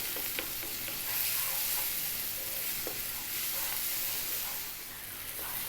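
Spices being stirred constantly in a hot pan over high heat for mattar paneer, giving a steady bright sizzle and hiss with occasional scraping clicks from the spoon, close and continuous with no voices.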